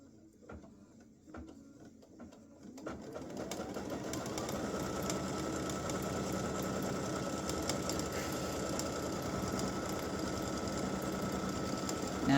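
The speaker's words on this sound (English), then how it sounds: "I'm going to stitch color stop 11, which is your tack down." An embroidery machine stitching an applique tack-down on a t-shirt starts after a few light clicks, then runs as a steady fast mechanical whir and rapid needle chatter, close and continuous to the end.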